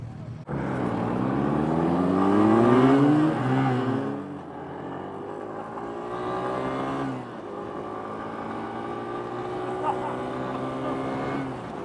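A 2018 Suzuki VanVan 200 motorcycle engine revs while riding, its single-cylinder drone rising in pitch through the gears, close and steady, with a brief drop between pulls.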